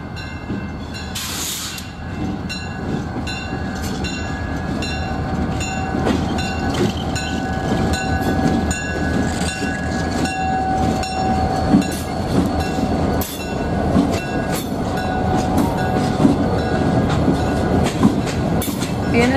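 A BNSF local freight train led by GP39M and GP60 diesel locomotives rolls past with a steady, loud rumble and clattering wheels on the rails. It stays close throughout with no voices.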